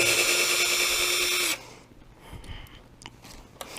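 Power driver spinning out the three screws holding the steering servo on a Traxxas X-Maxx RC truck, a loud steady whir for about a second and a half that stops abruptly, followed by faint clicks and handling noises.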